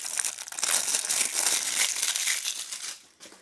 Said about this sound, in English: So let's do that by peeling off the plastic wrapper.